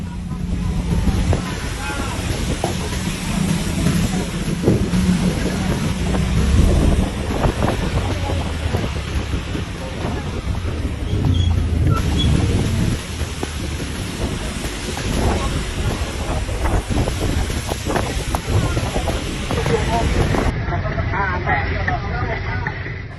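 A strong wind and heavy rain storm in Kotabumi and Metro, Lampung, gives a loud, continuous roar with gusty buffeting on the microphone throughout, and voices are heard in the background.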